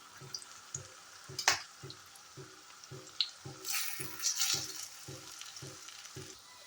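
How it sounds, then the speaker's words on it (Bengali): Lentil fritters fry in hot oil with a steady, faint crackling sizzle, broken by soft rhythmic thumps and a few brighter spatters, with no one talking. "বড়াগুলো লাল লাল করে ভাজা চলছে"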